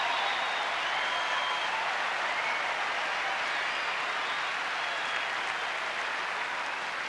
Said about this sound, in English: So terrific applause for both men